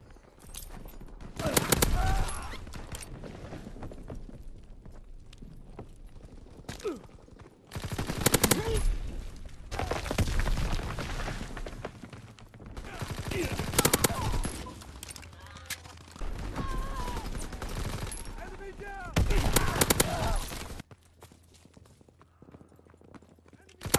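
Rapid bursts of PPSh-41 submachine gun fire in Call of Duty WWII, several loud automatic volleys spread across the stretch between quieter gameplay noise, with a voice talking over parts of it.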